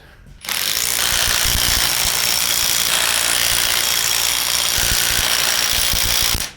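A loud continuous mechanical rattle from an impact tool tightening down a welded differential, starting abruptly after a quiet moment and running steadily for about six seconds before cutting off.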